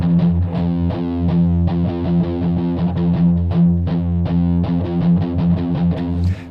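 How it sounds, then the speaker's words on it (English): A heavily distorted electric guitar plays a gritty, sustained riff with rhythmic chord changes, loud and close with no voices. "it kind of sounds cool if you have your distortion kind of on"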